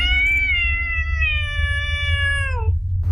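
A black cat gives one long, drawn-out wailing meow that sounds like a crying baby, loud and close, sliding downward before stopping abruptly over a low background hum.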